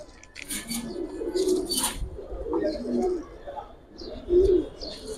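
Pigeons coo repeatedly at a pigeon seller's stall, where Mukhsi-type show pigeons are kept. The low, throaty coos rise and fall close by, overlapping one another with brief chirps and other bird calls in the background.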